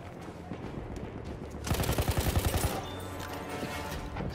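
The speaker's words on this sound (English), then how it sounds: "No, it's just a bunch of people shooting." Video-game gunfire from a group of people shooting: a fast burst of rapid shots from nearby under a steady background din, fading to a rumble afterward.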